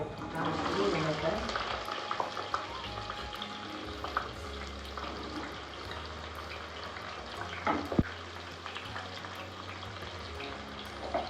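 Long-cut slices of four large onions frying in a pan for prawn biryani, a steady sizzle with stirring scrapes running throughout at moderate volume.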